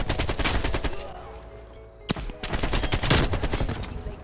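Rapid automatic fire from a buffed AK-47 in a Call of Duty–style kill confirmed match, sustained bursts of dense gunshots, a short lull, then another loud volley of repeated shots.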